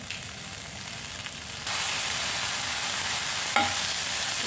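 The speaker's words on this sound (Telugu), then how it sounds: "ఇప్పుడు మళ్ళీ స్టవ్ వెలిగించుకొని సేమ్ కడాయిలో ప్రాన్స్ డ్రై రోస్ట్ చేసుకోవాలి" Dried prawns dry roasting and being stirred in a kadai, a steady close sizzle and scraping that grows louder partway through, with a brief sharper clink near the end.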